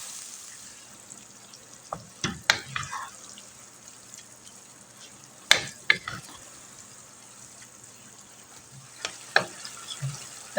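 Minced meat (qeema) fries in a pan with a constant soft sizzle. Occasional sharp clatters and scrapes come from stirring.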